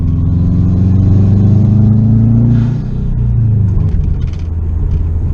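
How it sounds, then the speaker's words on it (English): A 2005 Subaru WRX STI turbocharged engine rumbles loudly up close and rises in pitch with a whirring turbo spool, then eases off and settles into a steady drone. "what's better than straight up turbo spool?"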